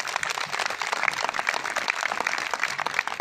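A lecture audience claps at an International Yoga Day event in Shalimar Bagh, steady moderate applause throughout with a few brighter tones over it.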